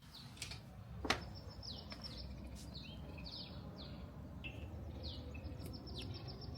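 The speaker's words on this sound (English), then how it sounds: "I don't know if you can hear the birds." Several small birds chirp and tweet at a distance on a quiet morning outdoors, calls scattered irregularly over faint background ambience.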